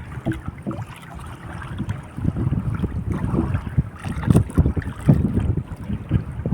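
Gusty wind buffets the microphone in low, uneven rumbling bursts, with a faint watery wash in the background and no talking.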